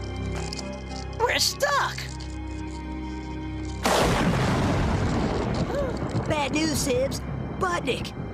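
Cartoon gunfire and artillery from a Sonic Underground episode: a sudden loud barrage of cracks and booms breaks out midway and keeps going, with characters' voices heard before and over it.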